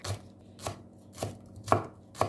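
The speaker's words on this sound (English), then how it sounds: "Now chop the stem of the spring onions and put together with the garlic." A knife chops spring onion stems and garlic on a board in five evenly spaced, crisp strikes about half a second apart, close and clear with no talking.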